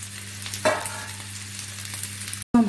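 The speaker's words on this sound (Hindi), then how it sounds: "हम हाई फ्लेम में सौते कर रहे हैं।" Boiled potatoes and onions sauté in a pan on high flame, giving a steady close sizzle with occasional scraping stirs and a brief dropout near the end, with no voices.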